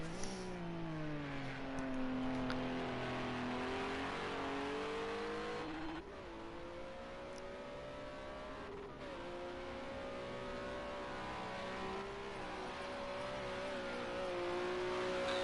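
GT3 race cars in a racing video game at the Nürburgring, one engine revving through rising and falling gear sweeps, shifting up and down steadily for the whole stretch, with a faint squeal.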